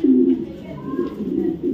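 Racing pigeons of Dutch and Belgian bloodlines coo close up, a low rolling throaty call that swells at the start and comes back in soft repeated bursts, with no talk.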